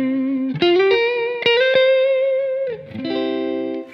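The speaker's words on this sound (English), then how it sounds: "The neck pickup is nice and smooth." Fender Jazzmaster electric guitar on its neck pickup, with a few smooth, sustained single notes and a short chord played alone through a mild effect and reverb.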